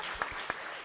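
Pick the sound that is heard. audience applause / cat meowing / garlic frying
audience applause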